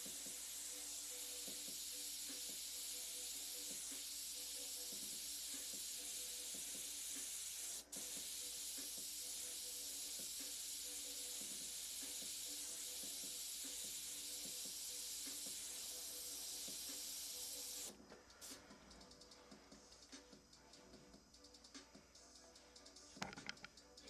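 An airbrush sprays paint in a faint, steady hiss that runs unbroken for about eighteen seconds, then stops and gives way to short, scattered bursts.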